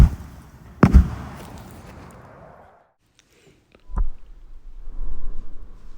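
A pyrotechnic charge fires with a sharp loud bang, followed by a trailing rumble that fades to near silence, then a second thump and lingering rustling noise.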